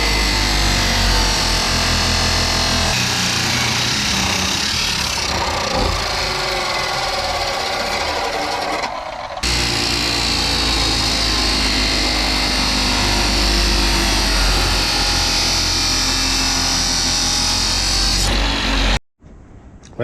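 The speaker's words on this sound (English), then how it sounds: "now I gotta cut" A power tool cuts through an end piece for a log truck build, giving a loud, harsh, continuous grinding whine with brief shifts in pitch, a short break midway, and an abrupt stop near the end.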